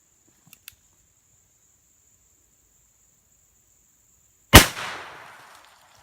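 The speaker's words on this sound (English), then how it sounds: "we're just going to shoot a single water jug" .45 Long Colt revolver loaded with 200 grain Hornady rounds, fired once at a water jug outdoors, one loud sharp shot with a short decaying echo after a few faint clicks and a steady insect hum.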